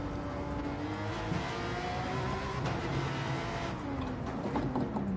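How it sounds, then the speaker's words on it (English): Car engine in Gran Turismo 7 revving and holding steady pitch through the gears, a continuous loud drone with rising and falling tones and faint tire noise throughout. "I'm revving up the car."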